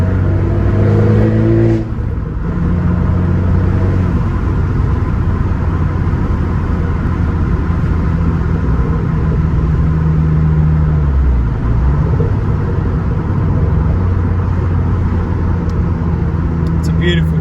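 An Abarth 595 pulls hard in third gear on the road, its engine a steady close droning hum that rises in pitch partway through, with faint murmuring around it.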